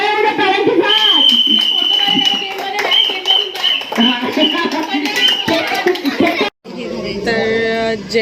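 An audience applauds at an outdoor Republic Day celebration with games and prizes, steady clapping running under a loud voice over a public address system, with crowd chatter and children's voices around it.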